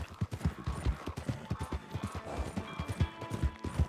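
Horse hooves clip-clopping in Red Dead, a quick galloping rhythm of close, punchy thuds running steadily throughout.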